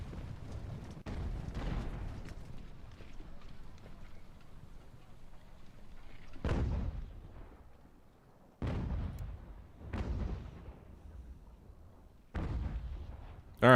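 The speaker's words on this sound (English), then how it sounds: "The artillery is opened up on the enemy infantry moving toward me" Artillery fire in Ultimate General: American Revolution as guns open on advancing enemy infantry: several deep booming shots at irregular intervals, each followed by a rumbling decay, over a low battlefield ambience.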